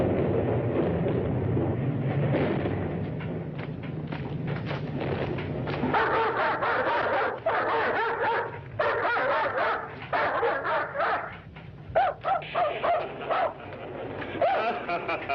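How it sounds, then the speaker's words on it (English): A dog barks, yips and howls repeatedly at close range over a steady low rumbling background, the barks coming in quick irregular bursts. "tell him to take that howling mutt with him"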